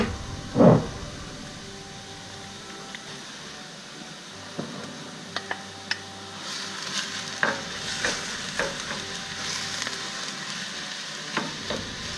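Chicken pieces dropped into a pan of frying onions give a sharp hiss at first, then settle into a steady sizzle with occasional clicks and scrapes of stirring, close and alone without talk.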